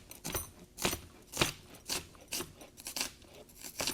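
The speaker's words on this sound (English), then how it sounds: "So let me just cut my onion." A kitchen knife chops through an onion in a home kitchen, with about eight sharp, crunchy cuts spaced at a steady, unhurried rhythm, each one close and distinct.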